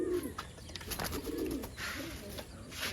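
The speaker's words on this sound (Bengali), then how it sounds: "খুব ছটপটে পায়রা একদম জিরো পটের বাচ্চা" Young pigeons for sale coo in low, throaty bursts with a few brief chirps, close by, over a steady background murmur; no one speaks.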